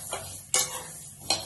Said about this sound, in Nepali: कराई तताएर नि मसला मजाले हल्का गरम गर्छु।